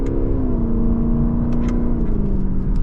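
Stock V8 engine of a Lexus LC500, a loud steady in-cabin drone with rising and falling revs and a deep mechanical rumble, no talking.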